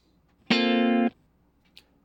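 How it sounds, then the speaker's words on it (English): A dry electric guitar chord strummed once with no effects, ringing steadily for about half a second and then cut off, alone in a quiet room with a faint click afterward. "this is the dry sound of a guitar"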